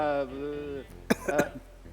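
A short throat clearing followed by a couple of quick coughs, close and fairly loud, after a brief sung or hummed tone.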